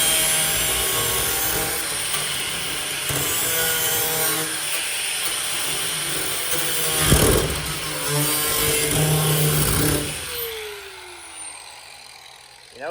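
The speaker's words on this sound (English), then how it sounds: "a hole saw." A hole saw cuts steel in a steady, continuous grinding rasp that runs near and loud for about ten seconds, then stops and fades out.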